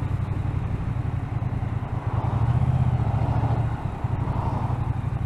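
A Triumph T120 Bonneville parallel-twin motorcycle with aftermarket exhausts idles nearby, giving a steady low throbbing thump with a slight swell in the middle and no talk over it.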